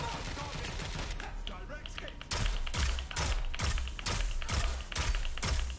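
Rapid bursts of gunfire strike enemies in the Watch Dogs Legion Bloodlines game, with repeated loud thumping shots at a steady rhythm over a constant background of game noise.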